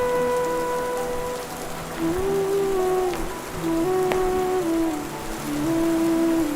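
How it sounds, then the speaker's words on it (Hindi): Rain patters steadily on the Madmaheshwar mountain trek trail in the Panch Kedar region, a continuous close hiss with some faint tonal sounds drifting beneath it. "यहाँ पर बारिश हो रही है"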